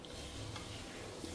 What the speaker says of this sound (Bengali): মাছ ভাজছি, শাক অল্প একটু ভাজি